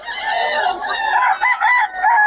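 A red tail gamefowl rooster crows close and loud, one drawn-out call with wavering pitch that breaks into a stuttering ending.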